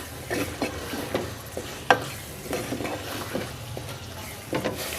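Potatoes and peas fry and are stirred in a pan in a home kitchen. A steady sizzle runs under scraping strokes of the spoon and the odd clink of metal, with no voice.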